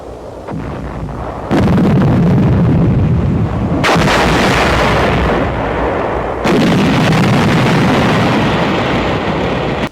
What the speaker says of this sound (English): An explosive charge in a 5-gallon gasoline can is improvised to blast an enemy position.